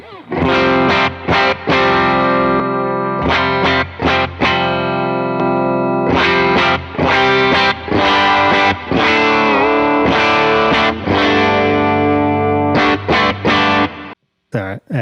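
Electric guitar through a Superbolt overdrive pedal, played loud and close, with chugging chords and riffs, gritty saturated tone, brief gaps between phrases.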